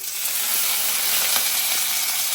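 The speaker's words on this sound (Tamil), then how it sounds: "இப்போ அதே வானலில் எண்ணெய் ஊற்றிட்டேன். பட்டை, லவங்கம், ஏலக்காய், பிரிஞ்சி இலை." Cinnamon, cloves, cardamom and bay leaf sizzle in hot oil in a pan, a close, bright, continuous frying hiss with no talk.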